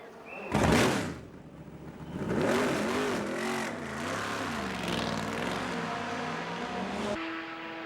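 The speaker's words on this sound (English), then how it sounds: "No mistaking the noise of the Chevrolet Corvette." A Chevrolet Corvette race car at the 2002 Le Mans 24 Hours, its engine roaring loudly as it passes close by, rising and falling in pitch as it shifts through gears, with other cars droning after it.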